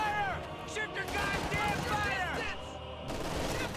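Machine-gun fire from a Company of Heroes match, a fairly steady battle din of crackling shots and impacts running throughout at moderate level, with a brief drop near the end; a commentator's voice talks over it.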